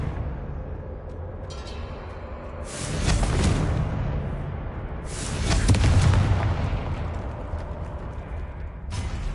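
Two loud, rumbling spell blasts from a Harry Potter-style wizarding video game, each a broad booming burst that swells and fades over a couple of seconds, with a sharper onset at the very end.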